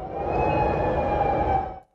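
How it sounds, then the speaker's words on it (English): Tornado sirens sound across downtown Chicago during Monday storms, giving one loud, steady wail that holds for nearly two seconds and then cuts off. "Tornado sirens jolted downtown Chicago Monday as storms tore through the area"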